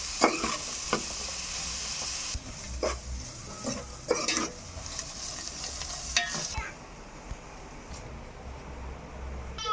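Sliced onions fry with ginger garlic paste in a pan for a wild mushroom curry, with a steady sizzle and repeated scraping stirs that get quieter and softer toward the end.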